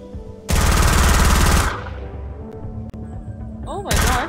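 Rapid automatic gunfire in Fortnite, a loud continuous burst for about a second, then a fading tail with scattered shots and game sounds, followed by a second burst at the end.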